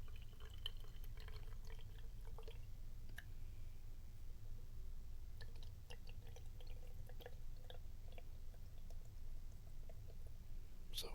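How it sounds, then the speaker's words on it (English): Water poured from a bottle into a Winsor & Newton watercolor field set, a soft, faint trickle with small drips and splashes beneath a steady background hiss. "I'm going to pour this in here, and I'm going to try not to spill it."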